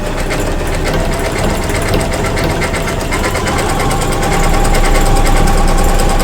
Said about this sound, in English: we're going to come through and start our stitching